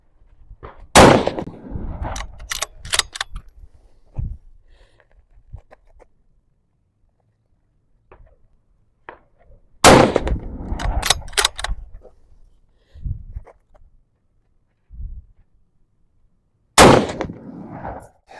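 Gunshots from a rifle during a shooting test of a Force 360 scope mount: three loud, sharp reports several seconds apart, each followed by brief echoing rattle and softer handling noises.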